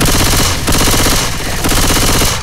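Rapid automatic gunfire from Left 4 Dead 2 rattles loud and close, a dense continuous burst of shots with a couple of momentary gaps.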